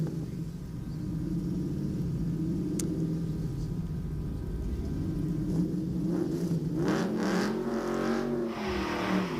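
A race car at a hill climb event climbs through its gears, a distant engine drone that rises into a stronger rev with shifting pitch near the end, heard over a steady outdoor rumble.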